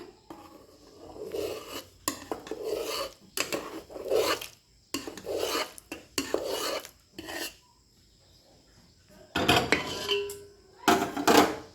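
A spoon works a fenugreek ladoo mixture as sugar syrup is poured in, giving close, intermittent rasping scrapes against the bowl in short bursts with brief pauses and no talking.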